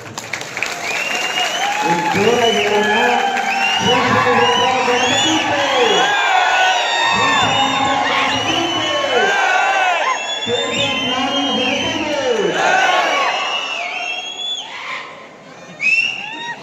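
A large outdoor crowd at a Ganesha statue event roars with cheers, whoops, whistles and applause in repeated swells, loud and continuous, with shouting voices mixed in.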